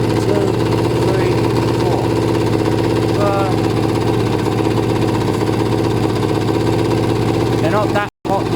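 Kawasaki ZL600 motorcycle engine idling while not yet up to temperature: a loud, steady close-up mechanical drone with a constant low pulse, broken by a brief dropout near the end.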